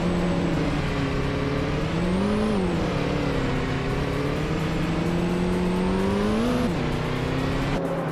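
Video game race cars with engines droning steadily, pitch rising and falling as they accelerate and shift, continuous loud whine with no voices.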